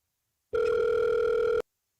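A single continuous telephone ringback tone plays steadily for about a second while a call is placed, loud and close, with no speech over it.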